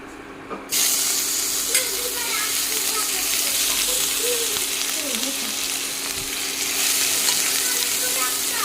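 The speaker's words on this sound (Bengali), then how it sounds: "আদা কুচিটা একটু ভালো করে ভেজে নিই" Chopped ginger frying in hot oil with five-spice seeds for a Bengali dish, a loud continuous close sizzle that starts abruptly and holds steady, with occasional stirring scrapes and faint voices in the background.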